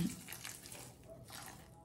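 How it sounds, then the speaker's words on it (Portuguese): Water pours onto an indoor houseplant, a soft, close trickle and splash that comes in short uneven bursts and fades toward the end. "Vou dar água, gente, essa bonitinha aqui."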